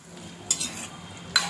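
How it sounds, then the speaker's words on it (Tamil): Tomato thokku cooks in a pan under a soft bubbling sizzle, with two brief scrapes of a spoon stirring the thick mixture. "நல்லா கிளறி விட்டுக்கிட்டே இருக்கணும்."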